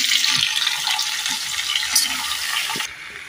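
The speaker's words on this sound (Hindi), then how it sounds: "अब इसमें मैं पानी में से निकाल के आलू डाल दूंगी।" Potatoes lifted out of water drop into a hot pan for potato bhujiya and start frying, giving a loud sizzling hiss with a few clatters before it abruptly quietens.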